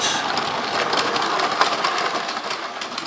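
A Lego City 60337 Express Passenger Train in neon green livery runs along its track at higher throttle, a steady, fairly close mechanical rumble and whir with faint rhythmic clicking, no talking.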